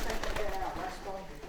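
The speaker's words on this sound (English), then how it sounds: "All these pigeons need to leave here as well." Pigeons coo in low, throaty calls and flap close by on a street where people are gathered, with the birds crowding around people who won't feed them.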